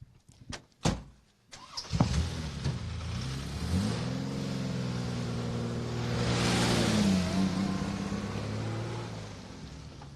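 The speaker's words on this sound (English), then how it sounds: "It's a great sounding car, that, isn't it?" A rally car engine revs hard on a muddy North Wales forest stage after a few sharp knocks, then settles into a loud, sustained drone that swells briefly and holds.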